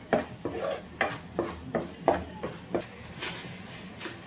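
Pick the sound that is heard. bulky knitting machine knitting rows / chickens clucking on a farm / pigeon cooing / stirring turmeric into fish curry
stirring turmeric into fish curry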